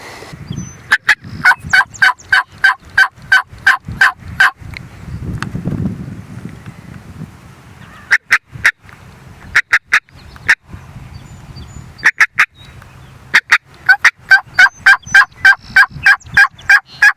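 During a spring hunt in Canada, a wild turkey gobbles again and again in fast rattling bursts, loud and close, with breaks between volleys and a soft rustle in the gaps.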